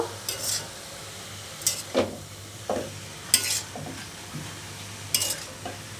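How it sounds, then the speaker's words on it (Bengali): Greens being stirred with turmeric and salt in a pan, a utensil scraping in several separate strokes with a faint sizzle underneath, fairly close and alone. "হলুদ লবণের সাথে একটু নেড়ে চেড়ে মিশিয়ে দেব।"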